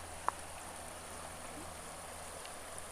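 The Clark Fork river flows high and fast past Kelly's Island, a steady, faint rushing wash of water with one small click near the start.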